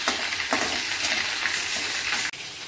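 Dal lentils roast in a hot pan for khichuri, a steady close sizzle broken by a few scraping stirs, which drops abruptly near the end before a quieter hiss resumes. No one talks.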